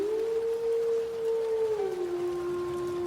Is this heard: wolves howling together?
yes